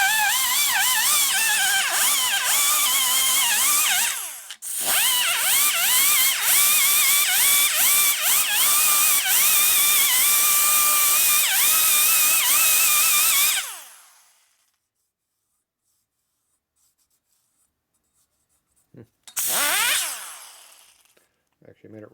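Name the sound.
small grinder porting a 1950 panhead cylinder head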